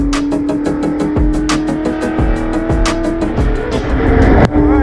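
A supercharged car engine running without nitrous during a tuning session, holding a loud, steady drone with rapid, regular pulsing and a few brief rises in revs throughout.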